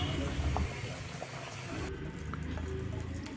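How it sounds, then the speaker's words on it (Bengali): Potatoes being rinsed and rubbed clean in water, with splashing and sloshing throughout, louder at the start and steady afterward, close by. "শুরুতেই আলুগুলো পানি দিয়ে ভালোমতো পরিষ্কার করে নিব, যাতে সব ময়লা চলে যায়।"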